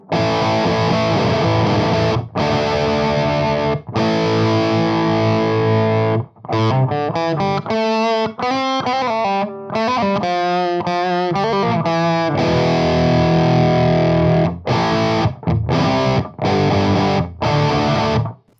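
A heavily distorted electric guitar, recorded through two mixed mics on a Torpedo CAB/Live, plays chugging chords and fast riffs, loud and close, with short abrupt pauses between phrases.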